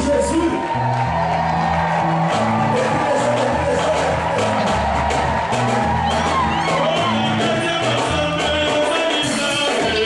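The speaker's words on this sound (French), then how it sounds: "Nous poussons des cris de joie pour Jésus." A church congregation shouts and cheers for joy in a loud, sustained wall of whoops and yells, with music and voices blended throughout.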